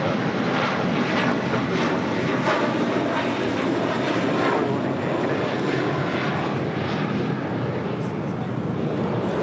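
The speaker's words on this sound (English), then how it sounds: "taking off to Boston, flight 188 on this A321" An Airbus A321 jet airliner on its takeoff roll at LAX, a loud, steady broadband engine roar that stays constant throughout.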